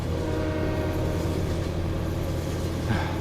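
Trains in Farming Simulator 15 rumble past continuously, a loud, steady rolling drone with a faint horn-like tone, close by and without talk.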